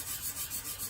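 Steady back-and-forth rubbing of sandpaper on painted wood, purple and teal paint being worn down, close and continuous with a pulsing stroke rhythm, no voices.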